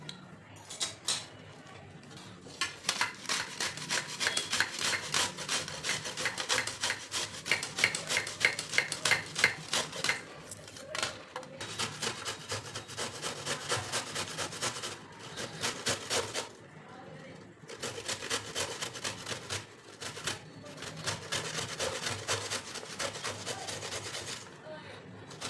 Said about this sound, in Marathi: तर आता ह्या कैऱ्यांचे साल काढून झालेले खिसून घ्यायचे.